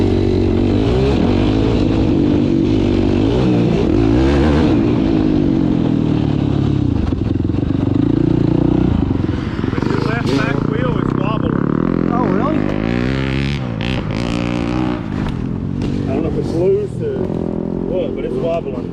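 A 2021 Yamaha YFZ 450R quad fitted with an HMF Performance Exhaust and Fuel Optimizer runs steadily, its engine drone rising and falling with rough revving and clattering over the whole stretch, with people talking over it.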